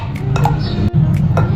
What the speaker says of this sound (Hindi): चलें अब हम इसमें आइस क्यूब डालते हैं।